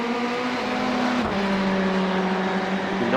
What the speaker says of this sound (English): These two Ferraris going toe to toe.